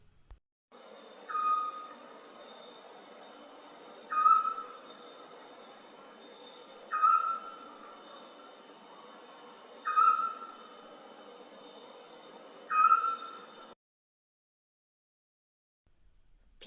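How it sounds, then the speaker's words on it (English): An owl gives five evenly spaced calls, each a short bright hoot or screech, over a steady electronic-sounding tone and a low background hiss. "Owl hoots and screech."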